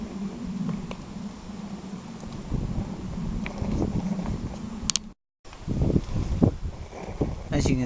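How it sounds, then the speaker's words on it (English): Strong wind gusts buffet a covered microphone outdoors while water is set to boil for coffee, a steady low rumble with louder bursts, broken by a brief dropout near the end before the buffeting resumes. "it's really windy, and I'm hoping that the microphone cover that I've got on this is working"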